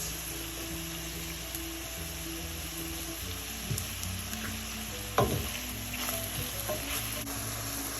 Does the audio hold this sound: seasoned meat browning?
yes